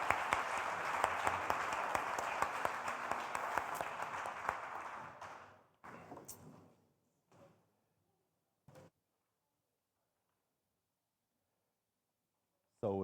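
Audience applause for a speaker at a conference, a dense crowd of clapping filling the room for several seconds before fading out into scattered claps, a few knocks and then silence.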